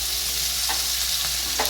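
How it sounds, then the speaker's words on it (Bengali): Green chilies frying in hot oil while being stirred, a loud continuous sizzle with a few light scrapes of the spoon against the pan, close up. "লঙ্কাগুলো একটু তেলে নেড়ে নিয়ে সুন্দর গন্ধ বেরোলে দিয়ে দেবো কেটে রাখা লাউটা।"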